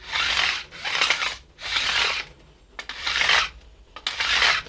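Rasping strokes of a file cutting an angle into the ends of stainless steel frets on a vintage guitar, five long back-and-forth passes with brief pauses between them, close and clear.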